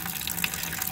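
Liquid draining from the leaking oil pan of a 1955 Allis Chalmers WD45 tractor, a steady close splashing gush like water running from a tap, continuous and fairly loud with no talk.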